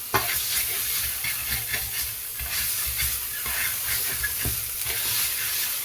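Hot green chillies are crushed with a stone pestle or metal pot base for a kharda chutney, giving a steady rhythmic scraping and grinding with faint sizzle-like hiss throughout, no talk.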